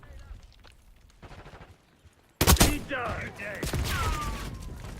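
Gunfire in a Call of Duty game bursts in suddenly after a quieter stretch, with loud rapid shots and explosions close in the mix, while someone talks faintly underneath.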